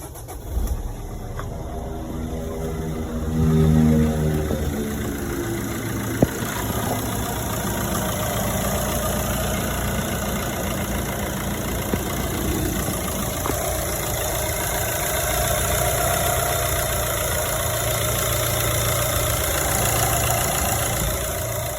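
Tata Manza 2010 diesel car engine cranking and catching, then settling into a steady, rumbling diesel idle that continues evenly with a few small clicks.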